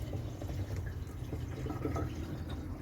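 Water trickling and dripping inside a top-loading washing machine being tested after a drain fault, a quiet steady flow with scattered drips, no voices.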